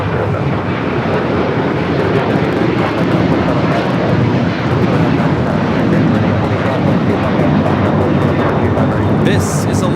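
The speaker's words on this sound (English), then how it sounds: "This is Alaska Airlines Flight 6 taking off to Washington Reagan National on the 737-800." An Alaska Airlines Boeing 737-800 takes off at Los Angeles airport with a loud, continuous engine roar and wind rumble, steady throughout.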